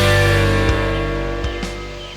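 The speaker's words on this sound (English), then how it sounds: "She moves 4501, she's rolling down the track, past the station bridge, smoke from a stack." Southern Railway 4501 steam locomotive rolling past a station bridge at the Tennessee Valley Railroad Museum, a steady tonal drone that slowly fades, with a few soft clanks along the way.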